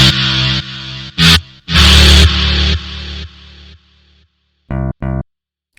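Sampler sound routed through the Hardcore distortion plugin in FL Studio, heavily saturated and loud in several choppy bursts of varying length, ending with two short clipped hits after a brief gap.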